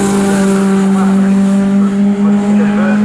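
BMW 3 Series and Z4 saloon race cars racing at Snetterton, heading down the Bentley straight, their engines a loud sustained droning whine under continuous race commentary.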